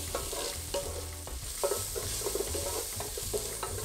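Bacon fries in a pan with a continuous close sizzle while a utensil stirs it, giving repeated scraping strokes and soft knocks. There is no talk.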